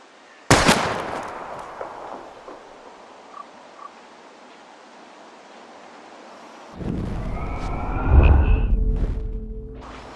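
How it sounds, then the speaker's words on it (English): A single sharp gunshot cracks out early in a Life is Strange shooting scene with bottles as targets, followed by a quiet stretch and then a rising burst of louder noise and impacts near the end. "We're gonna shoot all these bottles without wasting a single bullet."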